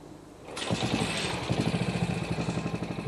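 After a short lull, a Moto Guzzi motorcycle engine catches and runs with a steady, rhythmic low thump, close and even in pulse, with no talk over it.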